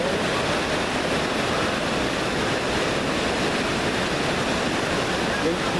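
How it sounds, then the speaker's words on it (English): Ocean waves rolling in at a busy Ocean City, New Jersey beach with swimmers, a constant broad hiss of surf that stays steady and fairly faint for the whole stretch. "Waves are coming in, I'm sure you can hear them."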